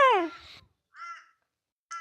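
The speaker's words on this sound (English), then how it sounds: "Shout out to the bird. Shut up, crow." A crow caws three times, close and loud: a long harsh descending call, then two shorter caws after brief silences.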